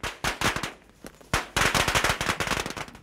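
Firecrackers crackle at a traditional Vietnamese funeral ceremony, sharp bursts at first, then a dense rapid string of pops, loud and close, with no talking.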